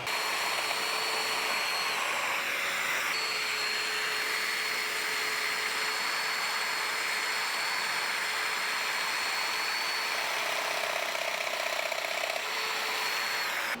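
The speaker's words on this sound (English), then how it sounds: "I got all my mortises cut in there for the dominoes." A power tool whines steadily while a domino joiner cuts mortises in wooden pieces for kitchen pull-out shelves, a continuous droning motor tone with small pitch shifts, close and loud throughout.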